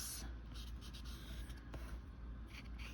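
A wet glue pen is drawn across paper, giving a soft, steady scratchy rubbing at close range with small rhythmic strokes, quiet and with no talking.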